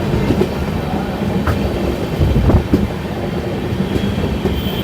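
An oncoming train on an Indian railway line rumbles loudly and steadily, with a dense broadband roar and a few sharp wheel clicks throughout.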